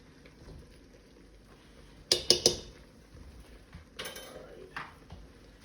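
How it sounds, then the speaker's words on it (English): A spoon stirs tomato paste in a soup pot for lentil tortilla soup, giving a quick burst of three sharp metallic clinks against the pot, then a softer scrape and tap a moment later. The pot sounds close, with a quiet room behind it. "Get that stirred around a little bit."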